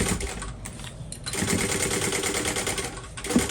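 Sewing machine stitching the layered panels of a fabric bowler bag together at a one-eighth-inch seam, running loud and continuous with brief slowdowns in its rapid whirring needle rhythm.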